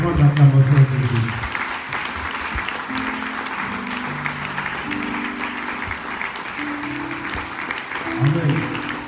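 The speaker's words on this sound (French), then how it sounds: "J'ai demandé une fois d'acclamation à Jésus." Church congregation applauding during a sermon, a sustained round of clapping with voices and shouts mixed in, moderately loud throughout.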